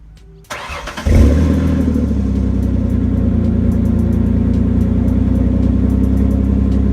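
A Ford Explorer with a 4.0 engine that has a leak and has not run in a while: a short crank, then the engine catches and settles into a loud, steady idle heard up close.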